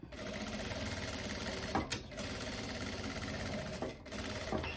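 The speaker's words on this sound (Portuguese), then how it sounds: "vou fazer um pespontinho virando essa costurinha pro lado do bolso" A sewing machine topstitches along the pocket of a viscose dress, running in fast continuous rapid stitching bursts close up, briefly pausing twice.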